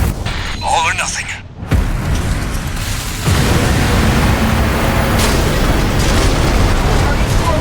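A rail cannon fires at maximum output in the video game Armored Core VI on PS5: a powerful charged blast erupts after a brief rising whine, followed by a sustained roaring rumble that fills the space.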